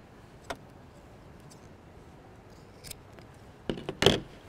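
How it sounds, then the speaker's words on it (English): Scissors snip the corner of a quilt binding at an angle, a few sharp, close cuts spaced out over a quiet background, with a cluster of louder snips near the end. "First thing is to trim off at an angle the corner to reduce the bulk."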